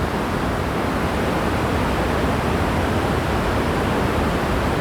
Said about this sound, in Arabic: هاي شلالات الراين